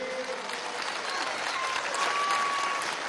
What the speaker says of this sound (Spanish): un aplauso a los trabajadores y a las trabajadoras de la CAM TV